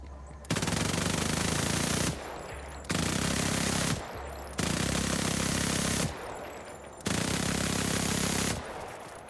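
Automatic gunfire in the video game Borderlands 4 comes in four long, loud bursts of rapid fire, each lasting a couple of seconds and separated by short pauses.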